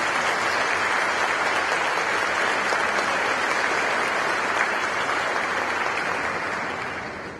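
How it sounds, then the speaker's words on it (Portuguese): A large audience at a rural labour law congress closing conference, including more than a hundred students, gives sustained, even applause, a dense wall of clapping that holds steady before tapering off at the end. "Eu gostaria de uma salva de palmas para eles."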